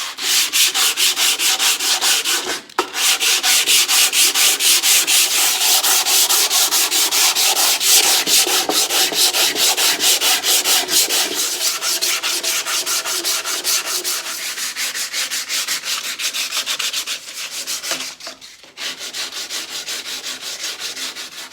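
Close, steady hand sanding along a wooden demilune table before primer, a continuous rhythmic scratchy rubbing with brief pauses, loud and alone.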